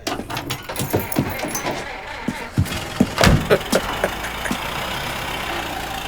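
An old car idles in Mafia Definitive Edition, a low engine rumble under a series of sharp clicks and knocks, settling into a steady drone toward the end.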